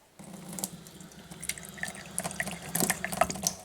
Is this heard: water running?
yes